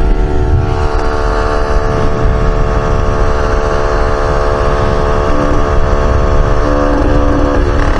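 A cafe racer motorcycle engine idles loud and close with a harsh, uneven rumble and steady tonal drone, sounding rough and strained throughout; no speech over it.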